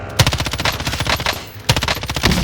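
MP5 submachine gun in the shooter game Warzone fires two rapid automatic bursts, the first lasting over a second, then a short pause before a second burst, loud and close with no talk.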